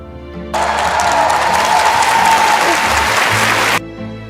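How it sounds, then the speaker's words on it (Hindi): Loud stadium applause bursts in suddenly after the national anthem, a dense roar of clapping that holds steady for about three seconds before cutting off abruptly. "राष्ट्रगान खत्म होते ही पूरा स्टेडियम तालियों की गड़गड़ाहट से गूंज उठा।"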